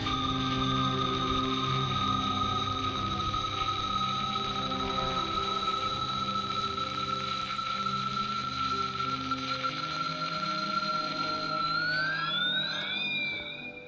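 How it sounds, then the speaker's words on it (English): A continuous electronic alarm tone rings out in Fallout 76 after lightning hits a ham radio, loud and steady with a layered wavering pitch, then sliding and warbling near the end before fading slightly. "The lightning struck the ham radio, and once it did strike the ham radio, this weird sound started to go off. It was almost like an alarm or something."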